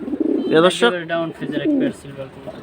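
A pair of silver Bagha high-flying pigeons coo close up in a few soft, throaty rolling bursts, with brief gaps between calls.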